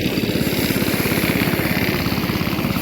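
A small rice harvesting machine engine runs loud and close, chugging in a fast, even rhythm without a break.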